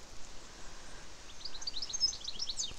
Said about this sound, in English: You hear the birds?